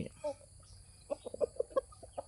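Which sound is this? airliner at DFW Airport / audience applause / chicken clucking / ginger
chicken clucking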